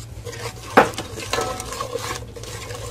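A spoon stirs dry rabri into boiling milk in a metal pan, giving close scraping and clinking strokes with a sharp clank near the start over a soft bubbling simmer.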